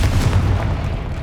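Casting the Confringo fire spell in Hogwarts Legacy sets off a single deep, loud booming explosion that rumbles throughout the short moment, with no talking.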